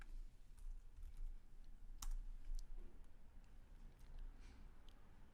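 Keys clatter on a computer keyboard as a command is typed into the Windows command prompt: a close, irregular run of crisp clicks with short pauses and no talking.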